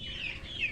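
Chickens in a poultry house give a brief, soft high-pitched cluck and chirp over a steady low hum of the shed.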